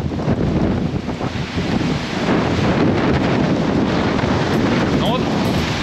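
Hurricane-force wind in Melbourne roars constantly and loudly, buffeting the microphone with heavy, unbroken gusting rumble throughout.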